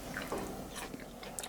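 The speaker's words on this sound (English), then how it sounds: "yours has a nice crunch" Crispy fried morel mushrooms bitten and chewed, giving close, crunchy bites and soft chewing sounds over about a second and a half, fairly quiet with no talk.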